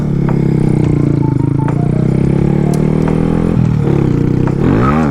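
A Honda Grom stunt motorcycle is ridden on fresh, smooth asphalt in a cul-de-sac, its small engine droning loud and close with rising and falling revs and a brief surge near the end.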